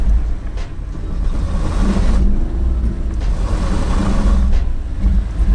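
A Toyota 4Runner in high range revs hard while its wheels spin on slip-test rollers, a loud, sustained engine and tire roar with surging pulses as traction control intervenes.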